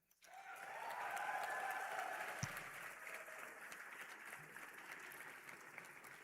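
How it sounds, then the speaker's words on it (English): Steady applause with some cheering from a convocation crowd honoring the graduating PGDM batch at Great Lakes Gurgaon, sustained and fairly loud throughout. "can we get a huge cheer for the PGDM batch?"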